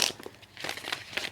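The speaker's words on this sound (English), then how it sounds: "Let me just give the cards a shuffle" A deck of tarot cards is shuffled by hand, a quiet close run of papery riffles and crinkles in short bursts.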